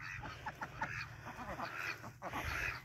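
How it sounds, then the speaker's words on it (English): Ducks on a homestead quack and chatter in a small group, several short overlapping calls close by over a faint background hum. "Here's some of our existing ducks"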